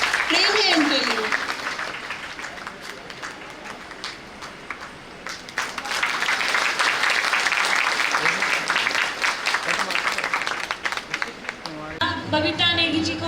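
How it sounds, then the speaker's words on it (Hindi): An audience at a International Women's Day event run by a social organization applauds, a steady, dense patter of clapping lasting most of the span, with a speaker's voice heard at the start and end. "जोरदार तालियां, आपकी तालियां ही प्रेम है उनके लिए।"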